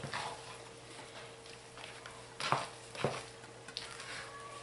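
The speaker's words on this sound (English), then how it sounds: "just going to stir it all back in" Pine tar lye soap made with lard being stirred in a crockpot on low, soft scraping and a few sharper knocks of the utensil against the pot over a low steady hum.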